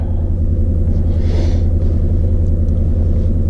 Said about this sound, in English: I'm going to warm the car up and we'll just go from there.